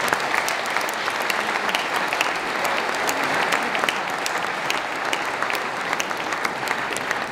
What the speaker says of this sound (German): es ist ein wirklicher Applaus